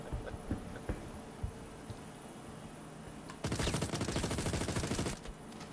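Gunfire from an enemy encounter in the video game Star Citizen: after a quiet stretch with a few faint clicks, a loud rapid automatic burst rattles out for almost two seconds, then stops.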